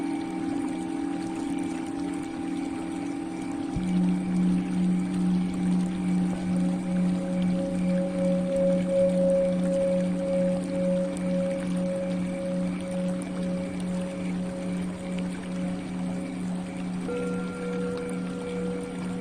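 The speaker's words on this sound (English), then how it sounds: "only focus on the sound of the water" Water flows and pours steadily throughout, mixed with sustained background music tones, moderately loud and unbroken with no voices.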